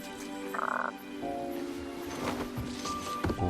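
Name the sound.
frog croaking in King's Quest video game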